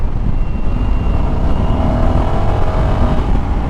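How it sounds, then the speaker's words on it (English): A 2020 Honda Africa Twin 1100 with its parallel-twin engine rumbles loudly and steadily while riding, a continuous thumpy drone with wind noise and no voices. "This bike definitely has nice character because it's a parallel twin, and it's definitely got a nice thumpy roar to it"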